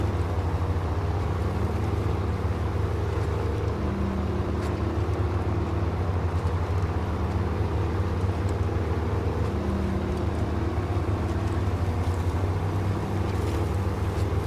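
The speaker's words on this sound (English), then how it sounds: "Love the deuce and a half. I love the sound of it as much as anything else." Deuce and a half military truck in the video game SnowRunner, engine droning in a steady low rumble that holds for the whole stretch with no talking over it.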